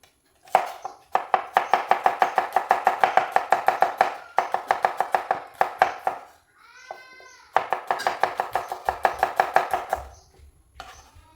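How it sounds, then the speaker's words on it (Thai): A knife slices shallots on a cutting board in fast, even, rapid taps, three long runs of close, crisp chopping separated by short pauses, with a brief animal-like cry in one gap. "หั่นหอมแดงใส่ลงไป"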